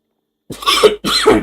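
Two quick, rough coughs close to the microphone, one right after the other, with silence before them.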